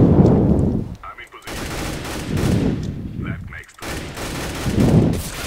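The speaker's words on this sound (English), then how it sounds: "Gonna continue to burst my fire with this weapon." Short bursts of P2000 pistol fire in Counter-Strike: Global Offensive, loud and close, arriving in three clustered volleys separated by brief gaps.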